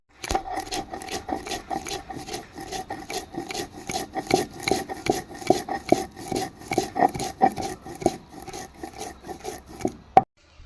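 Mustard seed and spices being ground into a paste on a grinding stone, a steady back-and-forth rasping scrape repeating about twice a second, close and fairly loud, ending with a sharp knock.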